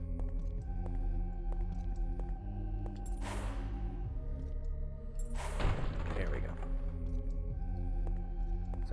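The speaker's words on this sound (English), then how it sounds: "Sounds like this door opened or something." Door opening in King's Field: The Ancient City, heard as two short, breathy noise bursts a couple of seconds apart, rising over steady droning game music.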